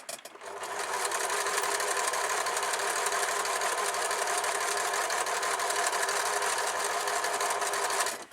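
A sewing machine stitches patchwork fabric in one continuous, fast, even run, close and clear, starting and stopping cleanly with no voices.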